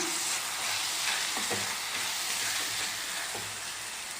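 Mango and fish curry fries in a pan as coriander and curry leaves are stirred in, giving a dense, steady sizzle with a few quiet utensil scrapes, close up and without speech.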